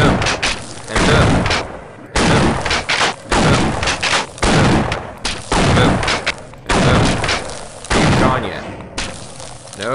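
Rapid bursts of gunfire from a Half-Life video game firefight, repeated volleys with short gaps, loud and close, with a player's voice talking in places.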